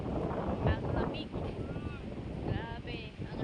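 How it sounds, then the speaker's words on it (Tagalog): Rough wind buffets the microphone in gusts on the beach at Roxas City, Capiz, with voices talking and calling out over the rumble outdoors. "Grabe, ang hangin."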